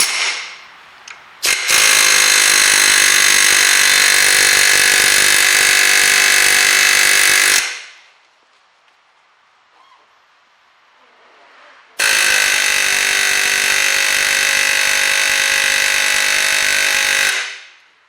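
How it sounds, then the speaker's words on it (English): A vibration tool working on a seized CV joint on a Ford Fiesta, a loud, harsh, steady buzzing in two long bursts of about six seconds each, separated by a quiet gap. "There's a little hole in here which is perfectly designed for the vibration tool"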